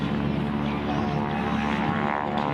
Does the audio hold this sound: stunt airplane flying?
yes